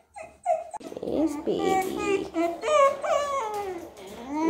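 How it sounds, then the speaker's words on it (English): A black dog whimpers and whines in a string of high, wavering cries close by, while a person speaks softly to it. "He's a black dog."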